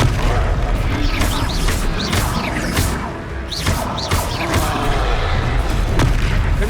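Repeated booming spell blasts from Confringo casts in the Hogwarts Legacy video game, dense loud explosions with crackling bursts over a constant battle roar, a game voice calling out at times.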